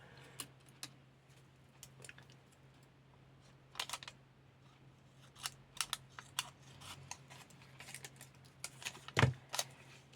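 Scissors snip vellum paper for scrapbooking in a quiet room, giving soft, scattered close cuts and clicks spaced irregularly, with a faint steady hum underneath.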